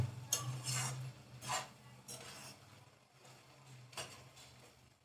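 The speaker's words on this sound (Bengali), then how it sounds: "এরপরে আমি নাড়িয়ে নেব," Utensil scraping and stirring smoky tandoori chicken bharta in a pan, a few soft scrapes in quiet bursts with a voice speaking between them.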